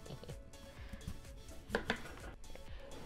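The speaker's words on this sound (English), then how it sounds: "now to slice them into half-inch thick pieces" A knife slices sweet potatoes into half-inch pieces, soft repeated cuts against a board at an uneven rhythm, close and fairly quiet.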